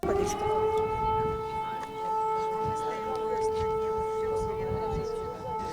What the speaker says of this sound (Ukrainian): Нестерпний гул сирени, загроза балістичного обстрілу під вже звичну повітряну тривогу.